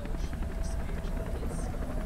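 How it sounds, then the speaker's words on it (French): A helicopter flying over busy New York streets, a steady rotor drone under a dense blanket of city noise, with voices mixed into the din. "On entend les hélicoptères"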